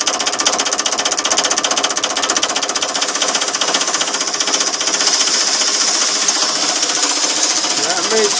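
A large Tesla coil's spark gap fires with an air compressor running, a loud, rapid, buzzing rattle of repeating discharges that continues steadily, the low rumble thinning partway through.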